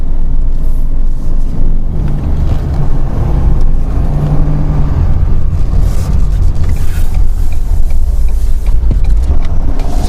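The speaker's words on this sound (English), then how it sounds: "giving you a little bit of a drive demonstration of this Ford F550 Super Duty with the 330 horse diesel engine" A Ford F550 Super Duty truck with a 330 hp diesel engine and 10-speed transmission on the move, a loud steady low rumble of the engine and road noise heard from inside the cab.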